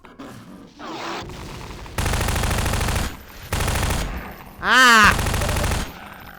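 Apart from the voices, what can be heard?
submachine gun firing in video game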